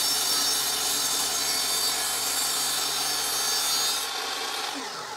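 Wooden strips for a display cabinet cut to length on a miter saw, a steady, loud broadband cutting noise running throughout that eases off near the end.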